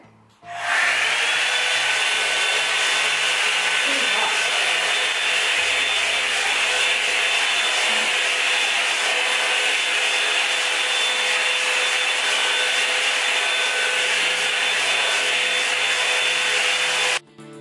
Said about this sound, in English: this is the first piece of hair here that I blow dry